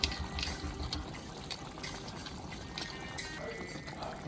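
Liquid poured into a pan of smothered chicken gravy, a steady trickling, splashing flow heard close with faint kitchen clatter.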